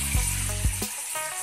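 Spice paste dropped into a hot pan with frying mushrooms and colocasia, giving a loud wet sizzle with a few sharp splashy hits as it lands, the hiss then easing off.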